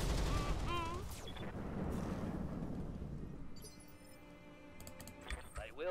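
Mech weapons in the Roguetech video game fire in a burst of sharp blasts and metallic clinks, followed by scattered distant impacts and clanks, moderately loud with no talking.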